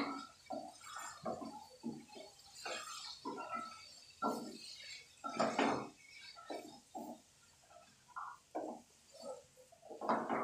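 A spoon stirs peas, potatoes and carrots in a pan, giving intermittent, fairly quiet scraping and shuffling strokes in uneven bursts with short pauses between them.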